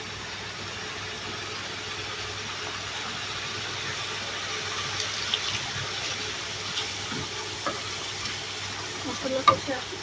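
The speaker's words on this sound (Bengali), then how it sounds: "আর একটু ঝোল দিয়ে মশলাটা কষিয়ে নেব।" Spice paste for a chicken curry with jackfruit seeds frying in a pan, a steady low sizzle with occasional scraping stir sounds growing slightly busier toward the end, no voices.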